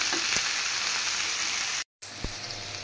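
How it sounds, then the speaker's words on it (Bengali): Meat and potatoes sizzle and fry steadily in a pan, with a continuous hiss broken by a brief gap of silence and a few stirring knocks. "আলুটাকেও আমি একটু ভেজে নিচ্ছি"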